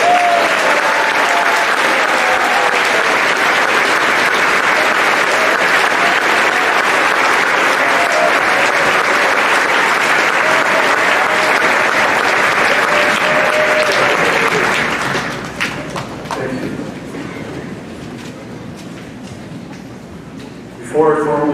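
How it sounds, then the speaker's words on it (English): A graduation ceremony audience applauds the teachers with dense, loud, sustained clapping that holds steady for about fifteen seconds, then thins and fades, and a voice comes in briefly at the very end. "if you would like to give them a round of applause."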